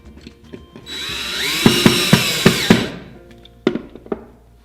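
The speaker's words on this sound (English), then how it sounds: "get a Euro screw and drill it in" A power drill drives a Euro screw while a SewStation cabinet is assembled, with a whining motor spin-up followed by several quick thunking clicks as the screw seats, then a couple of brief later bursts.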